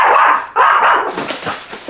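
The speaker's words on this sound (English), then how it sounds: "He heard another dog bark, and so he has to make sure they know where he lives." A pet dog barks loudly and close, two or three sharp, strong barks followed by softer yips and whines, with no talking.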